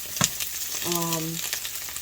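Steady sizzling and crackling of crab cakes frying in a large frying pan, with a brief clatter of a utensil near the start and a short tonal hum in the middle.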